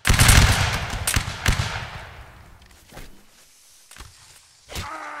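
A massed musket volley in a Napoleonic Wars video game line battle: a loud, dense crackle of many shots at once that rolls and fades, followed by a few scattered, fainter single shots.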